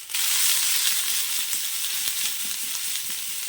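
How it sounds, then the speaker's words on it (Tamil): Grated coconut and chopped tomato sautéing in a pan for a dry fish curry (karuvattu kuzhambu), giving a steady, close, continuous sizzle and crackle with faint stirring scrapes and no talking. "நல்லா வதக்கலாம்."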